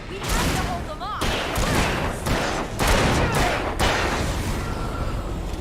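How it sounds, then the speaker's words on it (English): Gunfire in the Alan Wake game, with several loud, sharp volleys of shots in quick succession close up, mixed with game noise and speech. "Shooting them!"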